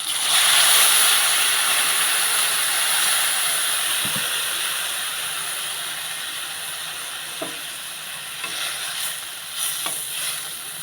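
Water poured into a hot pan of mustard curry with bata fish sets off a loud sizzle that settles into a steady, fading hiss, with a few faint clicks toward the end.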